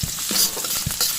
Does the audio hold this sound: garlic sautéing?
yes